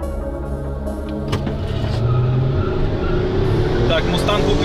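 A Ford Mustang and a Toyota Camry 3.5 accelerate hard in a street race. There is a loud, steady engine roar with rising pitch as the revs climb, heard from close by, and voices talk over it.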